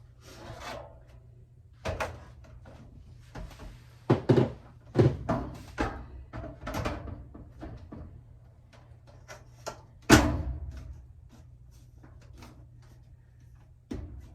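The front panel of a Samsung dryer is refitted, producing a series of irregular hollow thunks and knocks, some loud, with quiet gaps and a steady low hum underneath.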